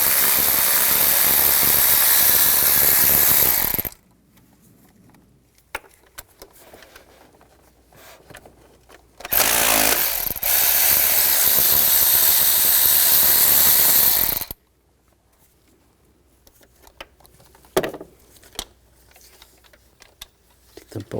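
A socket wrench with a 13mm socket ratchets out power steering reservoir bracket bolts on a 2000-2006 BMW X5 3.0L, two long loud runs of rapid clicking separated by quieter clinks and handling, with someone speaking.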